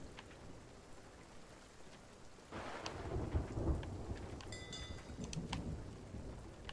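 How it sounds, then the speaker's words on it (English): A slow-moving thunderstorm at sea in the video game Sea of Thieves, with steady rain hissing and a deep rumble of thunder that swells partway through and keeps rolling. "It looks like it's just like a super slow moving storm."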